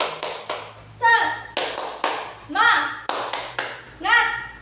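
Children in a classroom clap a rhythmic spirit-clap pattern in repeated bursts, sharp clustered claps alternating with short pauses, with young voices chanting or shouting between the clapping groups.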